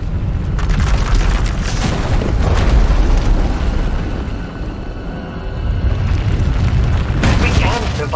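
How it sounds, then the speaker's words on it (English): A massive eruption explosion in Star Wars: The Old Republic rumbles loudly with deep booming bursts and crackling debris, swelling and fading across several seconds. "When it erupts, the entire asylum will be destroyed."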